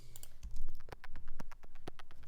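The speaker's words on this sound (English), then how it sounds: "It's basically just like high-end focused noise" A synth stab layer of high-end focused noise, shaped by an envelope into 16th-note hits for the bass section of an electronic track, ticks in a fast, steady, dry pulse under a soft low sustain.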